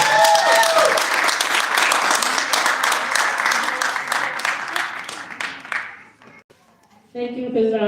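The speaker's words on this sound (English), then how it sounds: "if I could please call her with a round of applause" A crowd at a Pakistan Resolution Day flag-hoisting ceremony applauds an organiser, loud sustained clapping that thins out and fades before a voice begins speaking near the end.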